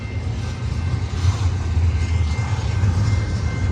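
A BNSF freight train, likely an intermodal Z train hauling trailers, rumbles steadily past on Cajon Pass, a constant low heavy drone of engines and rolling cars with no talk over it.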